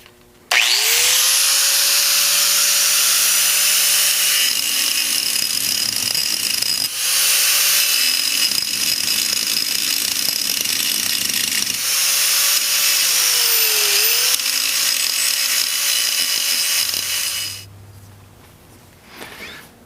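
Power grinder working on a metal bracket during an engine pulley project in a garage, a loud continuous whine with shifting pitch as the load changes, running nearly twenty seconds before winding down.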